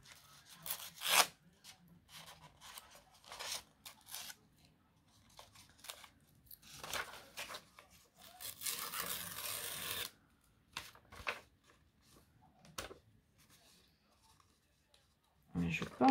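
Paper is torn by hand along the edge of an art journal page, producing short, scattered ripping and crackling bursts, close up, with a longer rasping stretch midway and quiet gaps between.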